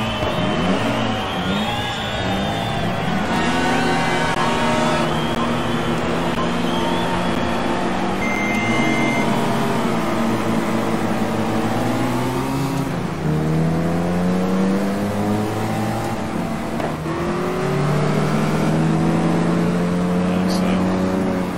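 Austin Mini Cooper S racing engine in the GT Legends video game, revving loudly and climbing through gears with rising, falling pitch sweeps, steady and close throughout, with a voice speaking over it.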